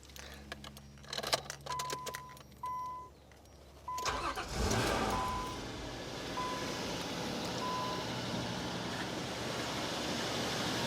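A Nissan Pathfinder with a warm-start fault: keys jingle and door chimes ping before the starter cranks briefly and the engine catches, then settles into a steady, close idle hum with chimes still sounding faintly.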